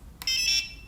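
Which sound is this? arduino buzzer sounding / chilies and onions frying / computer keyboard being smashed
arduino buzzer sounding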